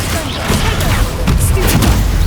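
A Confringo spell blast in the Hogwarts Legacy video game, a loud, dense explosive boom with rumbling, crackling debris that fills the whole moment at close range.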